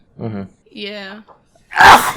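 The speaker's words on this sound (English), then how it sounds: "That sneeze just now just reminded me" After a couple of soft voiced murmurs, one sharp, loud sneeze bursts out close to the microphone.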